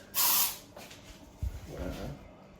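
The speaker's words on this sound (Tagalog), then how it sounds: "Spray-spray tayo kanto." Air freshener sprays into the corners of an apartment during a general cleaning, with one sharp, loud hiss at the start and then softer, shorter bursts and handling noises.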